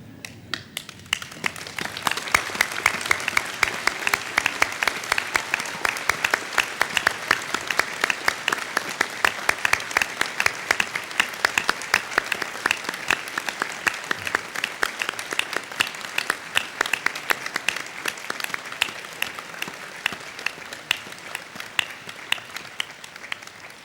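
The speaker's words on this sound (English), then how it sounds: "join me in applauding the wonderful achievement of our graduates" A large audience applauds graduates at a University of Newcastle graduation ceremony in Australia, steady dense clapping sustained for the whole stretch at an even, loud level.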